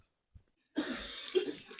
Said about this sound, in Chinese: 这2天光咳嗽